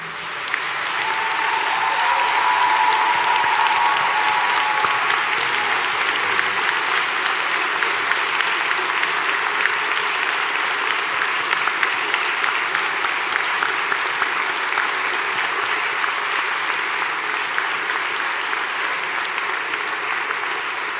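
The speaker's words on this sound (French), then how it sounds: "vous pouvez maintenant applaudir chaleureusement vos collègues et amis" Graduates and guests rise and applaud warmly in a hall at the closing of a UQTR university graduation ceremony. A dense, steady wash of clapping from a large crowd holds for about twenty seconds, with no speech over it.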